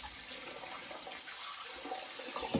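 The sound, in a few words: water running while rinsing a straight razor handle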